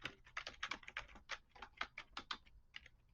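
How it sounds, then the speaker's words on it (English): Typing on a computer keyboard: a quick, uneven run of soft, close key clicks in small bursts with short pauses, quiet and alone. "And you're going to type in Credit Karma."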